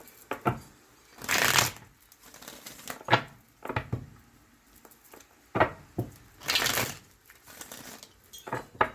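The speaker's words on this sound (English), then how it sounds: "I have pre-shuffled everything. I always do. But I just like to get a few more in." Tarot cards are shuffled repeatedly nearby, brisk riffling bursts alternating with softer taps and shuffles, in a quiet room with no talking.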